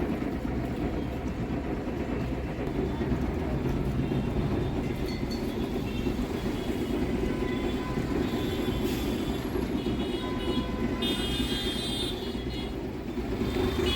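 A Kolkata tram on the Shyambazar–Esplanade route rolls along its rails through city streets: a continuous low rumble of wheels and car body, with faint metallic squeals breaking through near the end, and no talk.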